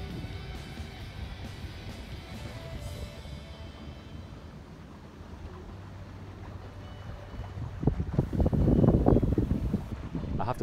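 A motor boat cruises on Lough Erne near Enniskillen, its engine a steady low drone under heavy wind buffeting the microphone, with rushing water and wind surging louder toward the end.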